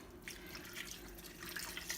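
Water pours steadily into a soup pot of meatballs, giving a soft, faint trickling splash over low room hum, with no talking.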